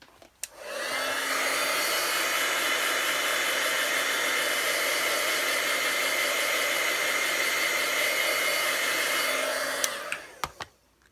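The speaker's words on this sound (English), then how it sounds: "I'm going to hit this with my heat tool." A heat tool blows steadily for about ten seconds to dry watercolor paint on a birthday card, a loud, even whoosh that starts and stops abruptly and is followed by a few small clicks.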